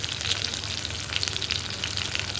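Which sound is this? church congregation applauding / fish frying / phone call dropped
fish frying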